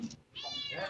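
A cat meows close by in a home kitchen, one short call followed by a longer, rising meow over quiet background.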